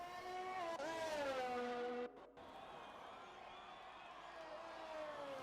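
Race cars in an RSF1 league racing video game at an Italy track roll into the pits, a steady high engine whine that dips briefly midway, then continues at moderate level.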